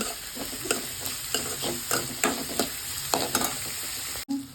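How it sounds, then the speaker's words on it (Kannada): Chopped onions frying in a pan with salt added, a steady close sizzle broken by repeated scraping stirs of a spoon, with no voices. "ಈರುಳ್ಳಿನ ಸ್ವಲ್ಪ ಚೆನ್ನಾಗಿ ಫ್ರೈ ಮಾಡ್ಕೊಳ್ಳೋಣ"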